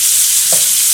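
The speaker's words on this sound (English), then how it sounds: "now we will turn this again." Pork tenderloin sizzles steadily in a frying pan, a constant hiss with a brief soft clatter midway as the meat is turned.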